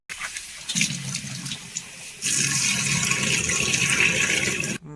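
Running water as cleaned prawns are rinsed under a tap for shrimp biryani, a steady splashing stream that swells louder midway and stops abruptly near the end, with no talking.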